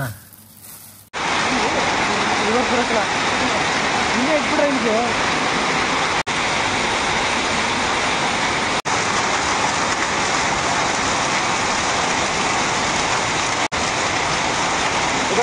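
Steady rain falls in Anekal, a dense, continuous hiss that begins abruptly after a brief quiet start and stays loud and unbroken to the end.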